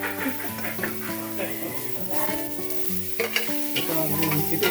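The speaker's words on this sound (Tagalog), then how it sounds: "Ito, nagsisimula na nga siya maggisa-gisa. Lagyan ng bawang sibuyas kasama na kung ano." Garlic and onion sautéing in a hot pan, a steady close sizzle with scraping stirs, while people talk and background music plays.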